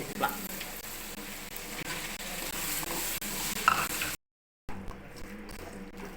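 Whole small onions and tomatoes sauté in a pan with a soft, steady sizzle and occasional stirring scrapes, fairly quiet, cut by a brief silent gap near the end.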